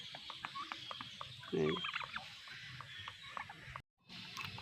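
Turkeys on a poultry farm, with one clear gobble rising over faint background clucks and bird calls in otherwise quiet surroundings.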